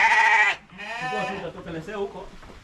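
Sheep on a farm in Eldoret bleat in a loud, wavering cry, then a second, softer bleat trails off, close to the listener with no talk over it.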